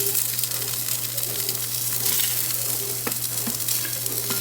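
A pot being deglazed for Guinness Irish stew sizzles and crackles steadily and loudly up close, with a constant low hum underneath and a few sharper pops.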